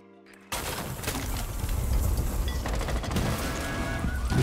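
Sustained gunfire in Rainbow Six Siege, a dense burst of rapid shots starting abruptly after a brief quiet moment and continuing loud and steady to the end, with no talk over it.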